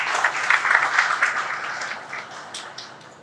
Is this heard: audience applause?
yes